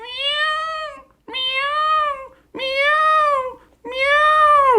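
Four drawn-out meows, each rising then falling, voiced by a puppeteer imitating a cat during a Turkish Karagöz shadow puppet show, loud and close with short pauses between them.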